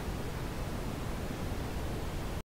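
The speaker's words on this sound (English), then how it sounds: "And then brown noise." Steady synthetic brown noise from the Noisli noise generator: a dense, unbroken hiss with no voices, holding at an even level before cutting off abruptly at the end.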